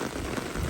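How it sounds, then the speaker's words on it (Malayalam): Rain falls steadily during a fishing outing, a dense, even patter that fills the brief moment without any voices. "മഴയാണ്."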